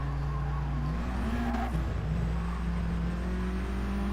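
Race cars in the racing game GT Sport drone steadily, engine pitch rising and shifting as they accelerate, with a car passing close by, loud and continuous with no talk.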